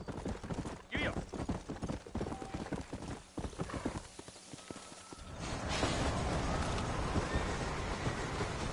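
Horse hooves clip-clop steadily in Red Dead Redemption as a mount sets off slowly out of a town, with a neigh and dusty outdoor ambience, while a character talks over the first half.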